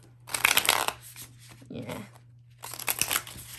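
Tarot cards being shuffled by hand in two crisp bursts of riffling and sliding, separated by a brief spoken word, close and moderately loud over a faint steady hum.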